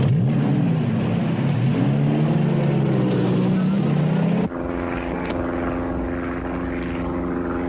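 A small propeller airplane in flight gives a loud, continuous engine drone that shifts pitch partway through and then settles into a steady hum.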